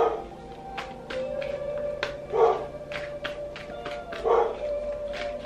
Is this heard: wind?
no